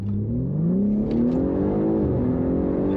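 A BMW G80 M3 accelerating hard from a roll, its engine note climbing steadily in pitch, loud and close and heard from inside the car, with no talk.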